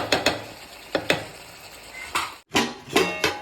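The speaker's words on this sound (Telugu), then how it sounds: "ఈ మసాలాలోనే మనం ఫ్రై చేయాలి ఒక ఐదు నిమిషాలు" Country chicken fries in masala and oil, with steady sizzling cut by repeated scraping and stirring strokes from a utensil against the pan, close and fairly quiet, with a brief pause midway.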